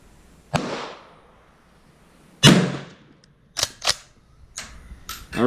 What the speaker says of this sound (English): I'm really shooting at 50, and this thing's battle sighted for 300 meters, so it's probably going to be shooting a little high.